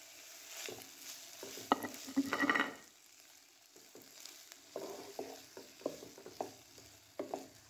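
Chopped onion, tomatoes and capsicum fry with ginger in a pan, giving a soft steady sizzle broken by bursts of stirring scrapes and clatters, close and quiet with no talking.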